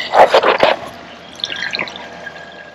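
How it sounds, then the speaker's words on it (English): Tap water running into a campervan's fresh water tank at a campsite, splashing and gurgling loudly at first, then settling into a quieter trickle with faint drips. "let's pop some water in so we can get the water heater going"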